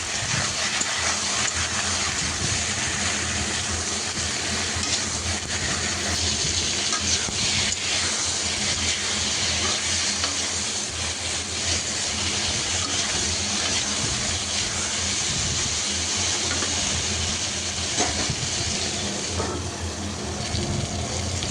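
Brinjal pieces frying in a pan, a steady dense sizzle with occasional stirring, continuous and close throughout.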